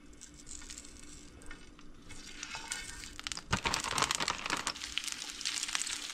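Pot stickers fry flat side down in a shallow layer of oil in a pan, a steady close sizzle with crackling spatter that swells louder partway through, with no talk.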